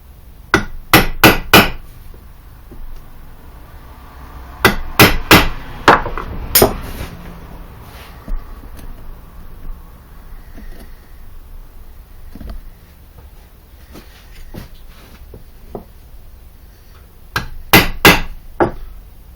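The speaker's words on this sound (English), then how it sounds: "I like to do that with a punch" Sharp metallic hammer strikes on a punch, making evenly spaced holes, in quick bursts of three to five blows separated by pauses, with a few lighter isolated taps in between.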